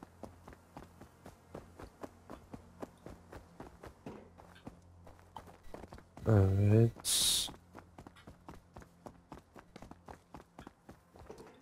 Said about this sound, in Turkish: Ayak sesi var.